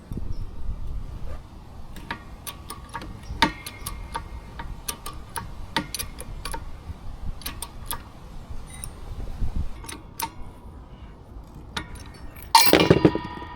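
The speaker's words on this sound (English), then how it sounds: "So I'm pressing out the bearing that had the snap ring on it." Mower spindle bearing on an Exmark Metro being pressed out with a deep socket: a series of sharp metallic ticks and clinks spread through a quiet workshop, ending in a louder clattering burst as the bearing comes free.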